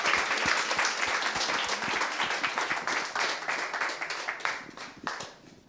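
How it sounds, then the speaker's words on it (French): An audience at a retirement-home foundation event applauds in a dense wash of many hands clapping, loud at first, then thinning into scattered individual claps that fade out. "Merci, on peut vous applaudir."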